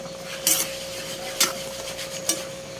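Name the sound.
stirring saluyot leaves in a pot with a ladle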